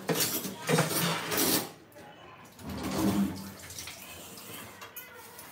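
Water splashes in uneven bursts as a kitchen cutting blade and utensils are rinsed, with brief metallic clinks between the gushes and a short pause midway.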